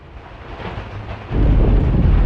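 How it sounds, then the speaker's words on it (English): Rainy-day weather in a video game: steady rain hisses under a low thunder rumble that swells into a loud, deep roll about halfway through. "It is a rainy day today."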